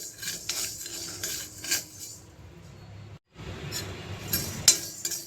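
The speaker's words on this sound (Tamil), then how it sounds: "லேசாக உளுந்தம்பருப்பு சூடேற வரைக்கும் வறுக்க போகிறேன்" Urad dal is dry roasted in an iron kadai, with gritty scraping and rustling of lentils as a utensil rubs against the pan. A few metallic clinks sound, and a brief pause falls midway.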